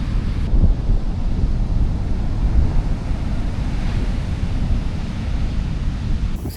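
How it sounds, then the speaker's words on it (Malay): Rough sea surf rumbles at Knights Point on New Zealand's West Coast, a deep continuous roar of waves mixed with gusting wind buffeting the microphone, loud and close with no voices. "Nampak tu dia punya lautan gelora dia."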